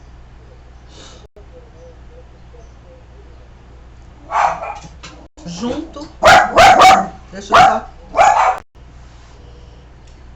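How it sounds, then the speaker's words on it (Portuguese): Several dogs bark inside a house, a burst of sharp overlapping barks at moderate distance in the middle of the stretch, with someone speaking before and between them. "é que eu tenho uma cachorrada aqui dentro da minha casa e qualquer barulhinho eles já fazem aquele alarme"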